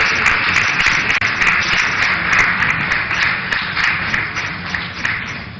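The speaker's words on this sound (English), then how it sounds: "Ladies, a round of applause." A steady wash of audience applause for a panelist at a women's dialogue event, dense continuous clapping held for several seconds at a fairly loud level, with no talking.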